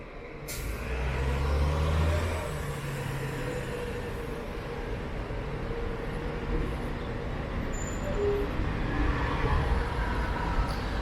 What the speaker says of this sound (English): There's the 97 Yonge bus.